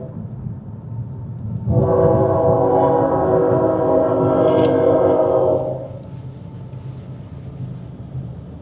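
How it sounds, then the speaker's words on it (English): A train horn blares for about four seconds over a low rumble of passing railcars, then fades back to steady background noise. "See, and there's a train."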